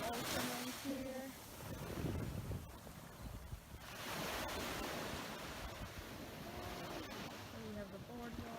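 Ocean waves wash steadily onto a shore beside a boardwalk on a warm, cloudy day, a continuous rushing surge with faint voices underneath.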